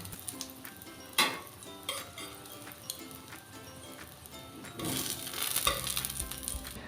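Slices of bottle gourd shallow-frying in a pan, a steady close sizzle with a few sharp utensil knocks and a louder surge of crackling toward the end.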